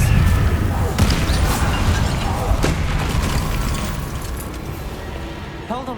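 A spell cast in the Hogwarts Legacy video game, heard as a loud booming burst at the start, followed by a fading magical rumble and whooshing effects, with a brief sparkling chime near the end.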